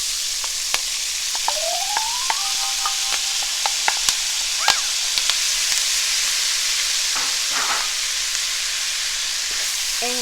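Onions fry in a pot for lentil soup alongside kale, making a steady close sizzle under scattered sharp clicks and clanks of utensils against the pot, with no one speaking.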